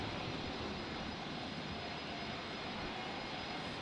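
A jet airliner roars down runway 01 right at Brisbane International Airport on takeoff, a loud, steady, broadband engine rumble with no speech.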